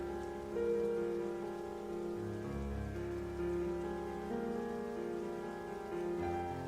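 A steady patter of rain runs beneath soft, sustained piano music from a video game soundtrack, calm and even throughout.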